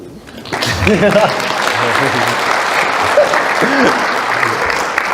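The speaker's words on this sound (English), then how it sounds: "Will you clap for her?" An audience at a small-business marketing talk claps for the speaker's wife, a sudden, full burst of crowd applause with voices and whoops mixed in, sustained and fairly loud.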